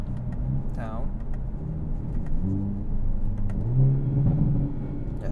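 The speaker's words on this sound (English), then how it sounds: "The shifting speed is, see, up, up, up," A Hyundai Elantra N's engine drones loudly inside the cabin, rising and falling as the car shifts through gears, with someone talking over it.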